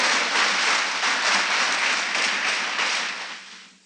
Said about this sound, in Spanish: Si quieren un aplauso a Dios